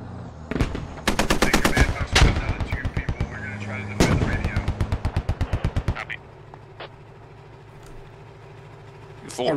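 Rapid automatic cannon fire from a Warrior armored vehicle in the military video game Squad, loud bursts of evenly spaced shots in quick succession, then a quieter stretch with a few distant reports.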